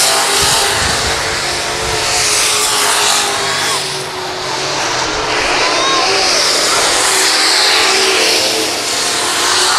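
Race cars at a Lakeside Speedway oval event roar continuously around the track, a loud, steady wall of engine noise that swells and dips slightly as the field passes.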